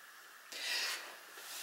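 A single short sneeze bursts out indoors, a sharp breathy blast lasting about half a second amid quiet room tone.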